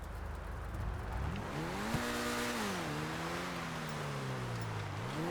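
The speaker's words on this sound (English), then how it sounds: "It's a reasonable looking sports car" A Stromberg sports car in a video game drives along, its engine note climbing and dropping through gear changes with a steady revving hum, moderately loud and without speech.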